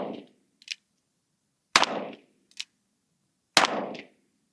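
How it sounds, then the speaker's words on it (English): An Uberti Tombstone Buntline revolver fired one-handed outdoors, three sharp loud shots spaced about two seconds apart, each trailing a short echo and followed by a faint metallic click, no talking. "Shooting it one-handed because that's how they used to do it."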